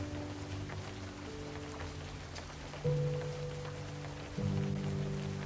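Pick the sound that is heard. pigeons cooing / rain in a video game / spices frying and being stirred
rain in a video game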